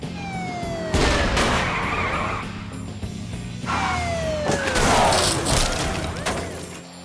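A siren wails with falling, sweeping tones over loud roaring noise and sharp bursts, rising and fading twice across the clip.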